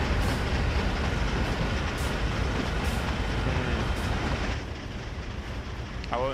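Loud, steady rumble of a train running on rails in the Train Sim World 4 simulator, a dense continuous roar with faint periodic clacks, easing slightly near the end.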